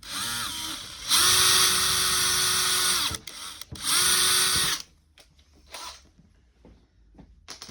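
A power drill bores two small pilot holes into a wooden rail, each a loud, steady whine lasting about two seconds, with a short pause between them, then quieter handling clatter afterward.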